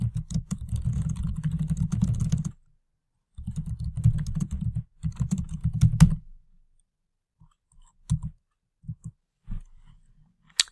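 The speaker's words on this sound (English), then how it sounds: "So I'm going to type in here" Fast typing on a computer keyboard, close and clear, in several bursts of dense clicking, then slowing to a few scattered keystrokes with quiet gaps.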